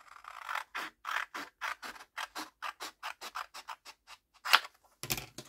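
Paper being cut in two with scissors: a long run of evenly paced dry snips, close and clear, with a brief sharper crunch near the end and no talking.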